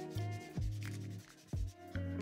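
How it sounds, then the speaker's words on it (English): Sandpaper, around 320 grit, rubs against leather edges of a long wallet in four or five steady strokes. Each pass makes a rasping scrape, and there is no talking. "I like to go through a few grits of sandpaper here."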